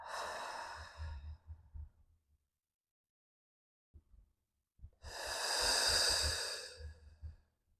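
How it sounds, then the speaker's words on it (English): During a hatha yoga practice, a person takes two deep, close breaths, each one a long airy inhale or exhale with a quiet pause between them. "Deep breath."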